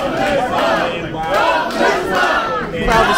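A loud wrestling event crowd roars and cheers continuously, a dense, sustained wall of shouting voices that swells and dips without pause.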